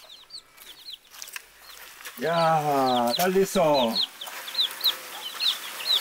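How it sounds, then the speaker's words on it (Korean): Young chicks brought as a gift to a family in Zambia peep in short, high, repeated chirps throughout, while a person speaks loudly nearby for a couple of seconds in the middle. "이 병아리 사왔어."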